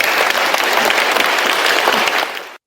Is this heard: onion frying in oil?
no